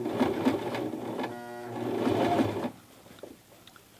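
A Toyota FSG325 sewing machine stitching through a dense jeans hem, a steady close motor whir with rapid needle chatter that runs for under three seconds, then stops, leaving faint handling noises.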